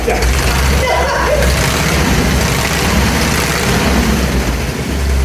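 A motorcycle engine running on display at the National Motorcycle Museum, a loud steady low rumble held close throughout, with people chatting nearby.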